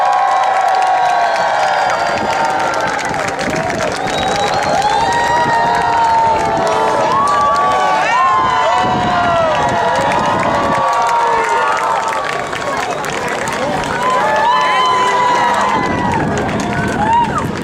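A large crowd cheers and shouts continuously at a military base open house air show as skydivers arrive, with a loud announcer-like voice and whistles rising over the roar throughout.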